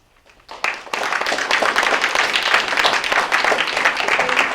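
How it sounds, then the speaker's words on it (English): An audience at a school board meeting bursts into dense clapping and snapping after a public speaker finishes, starting abruptly and holding steady and loud to the end. "Remember to not be clapping and snapping between the speakers"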